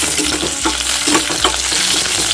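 Whole cumin, dried red chilli and green chilli tempering in hot oil for dal give off a loud, steady, dense sizzle with faint spoon stirs, and no voices.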